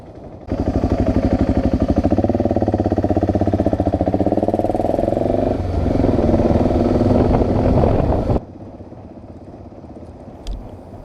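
A BMW motorcycle engine roars close up along rough village roads in Ukraine, loud and throbbing for about eight seconds as it revs and shifts, then drops abruptly to a quieter background hum.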